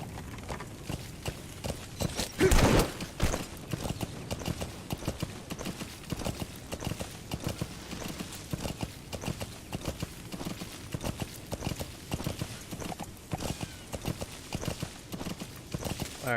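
A horse gallops in Metal Gear Solid V, steady rhythmic hoofbeats clip-clopping close and continuously, with a brief louder surge early on and faint background game ambience.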